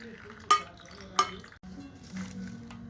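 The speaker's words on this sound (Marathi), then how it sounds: "त्यामध्ये आता मिरच्या मिक्स करत आहोत" A spoon stirs a chilli pickle mixture with green chillies being mixed in, giving two sharp clinks against the vessel followed by softer, wet scraping and mixing.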